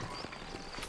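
Horse hooves clip-clop in Red Dead Redemption, a brief run of soft, evenly spaced hoofbeats on the ground, heard close and alone.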